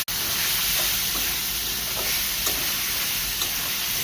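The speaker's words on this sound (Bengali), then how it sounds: "মাছটার সাথে শুধু লবণ দিয়ে মাছটাকে ভালোভাবে ভেজে নিচ্ছি" Taki fish frying with salt in a pan, a loud continuous sizzle and hiss of hot oil close by, steady throughout with a couple of faint clicks of stirring and no talking.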